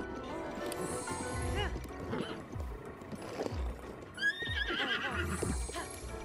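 A horse in the video game The Legend of Zelda: Breath of the Wild whinnies several times, with rhythmic hoofbeats thudding underneath and a few shrill, rising neighs standing out clearly.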